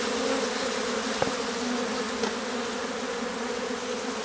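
Honeybees hum steadily at an open hive, a dense, even drone close by with a couple of faint ticks, no voices.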